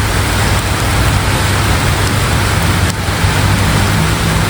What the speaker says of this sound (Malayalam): മഴയും കൂടി പെയ്തപ്പോൾ